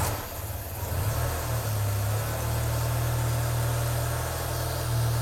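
A car engine idles steadily during an alternator voltage check, a continuous low hum with a broadband hiss running throughout, with no talking.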